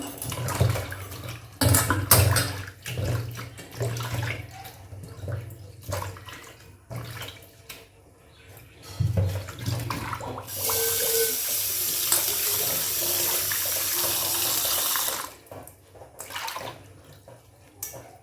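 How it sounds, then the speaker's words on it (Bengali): Fresh leaves are rinsed under a running kitchen tap, with irregular splashing and handling sounds, then a steady, louder stream of water near the end. "এবার পাতাগুলো আমি ভালো করে ধুয়ে নেব"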